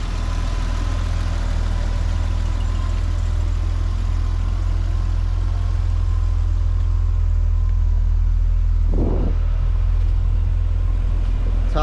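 A 1991 BMW 325i E30 convertible's engine running at a steady idle, a constant deep, loud hum close by, with a brief faint rise near the end.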